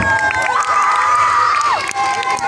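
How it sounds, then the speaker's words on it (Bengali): Event crowd cheering and shouting loudly throughout, with a sustained tonal squeal running over the noise in the middle. "একটু জোরে হাততালি"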